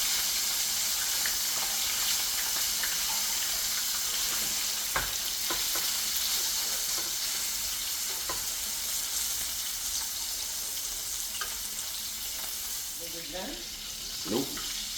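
A tenderized steak fries in butter in a pan, giving a constant loud sizzle with scattered small pops and spatters, and a few clinks near the end.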